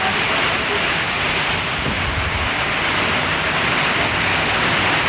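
Heavy rain pours in a dense, unbroken roar, loud and close throughout.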